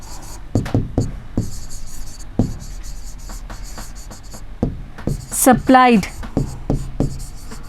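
Marker or chalk strokes on a board come as short, close taps and scrapes, broken up by a teacher's voice talking over the writing.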